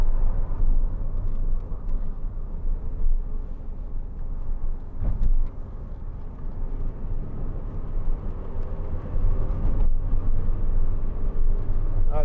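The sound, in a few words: fan and wind noise inside a 2004 MG TF car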